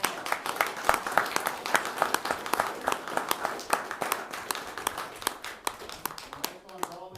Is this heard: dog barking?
no